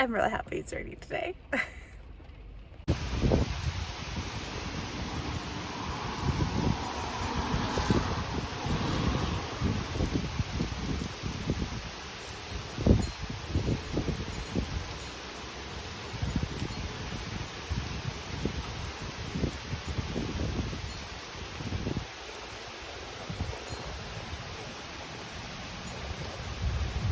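Steady rain falls outdoors as a continuous broadband hiss, with occasional heavier patters and drips, close and fairly loud throughout after a short opening sound.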